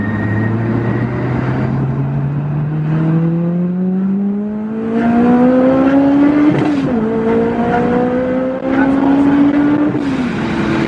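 An HKS supercharged 400 bhp Honda S2000 accelerating on the road, the engine note climbing steadily through the gears with a brief dip at a shift, loud and close from inside the car, with talk over it.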